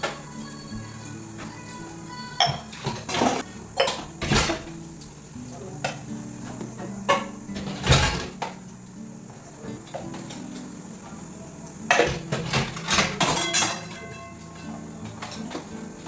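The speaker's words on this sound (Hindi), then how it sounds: "तो सबसे पहले जितने भी बर्तन हैं उनको साफ़ पानी से खंगाल लेती हूँ, जो जूठा वगैरह होगा वो साफ़ हो जाएगा।" Dirty dishes and utensils being rinsed with clean water at a home sink, with intermittent clanks and clatters of pots and cutlery over splashing and running water, close by, in irregular bursts.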